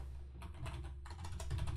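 Keys clatter on a computer keyboard as a quiz question is typed into an online course builder, a quick run of close, fairly soft clicks that grows denser and louder toward the end, with no talk.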